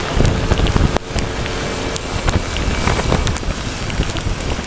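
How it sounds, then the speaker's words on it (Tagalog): Heavy rain pelts down during a motorcycle ride near Mariveles, Bataan, steady and dense, with wind buffeting the microphone throughout and a few sharper gusts. "Lumakas na naman ng ulan."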